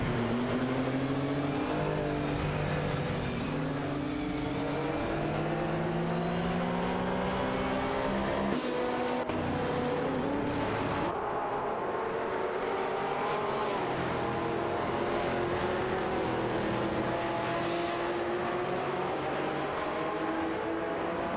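Race car engines in a racing video game whine and rev continuously, with rising and falling pitch sweeps as cars accelerate and shift, loud and steady with no talking.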